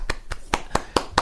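Six sharp, evenly spaced hand claps from a single person, close and crisp, separated by brief silences.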